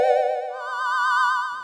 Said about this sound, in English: I have used a preset called Lead Spooky Voice which sounds something like this.